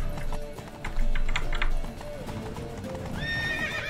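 A horse in the video game The Witcher 3 gallops with quick clip-clop hoofbeats, neighs partway through, and is joined by in-game sound effects, all fairly loud and close.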